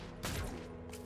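Pistol firing in the video game Zombotron, giving two short, sharp cracks about two-thirds of a second apart, the first louder, over a low background hum.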